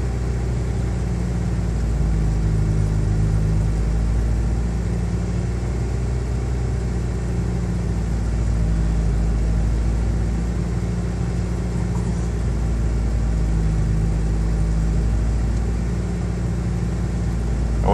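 A 1989 Geo Tracker engine idles steadily after a cold start, with a continuous, loud, even low rumble and no talking.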